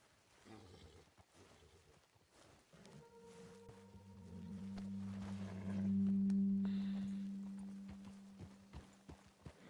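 Horse hooves clip-clopping in the video game Red Dead Redemption 2, a rhythmic series of hoof strikes alongside a droning tone that swells in the middle, moderately loud.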